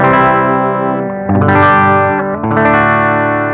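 Three sustained electric guitar chords strummed one after another through a clean effects-unit setting, bright and ringing with a slight wavering shimmer, loud and close with no voices.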